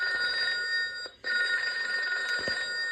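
An old-style telephone bell rings steadily and loudly, a continuous metallic trill that drops out briefly for a moment before resuming, heard alone without voices.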